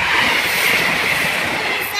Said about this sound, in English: Behold the super fast train!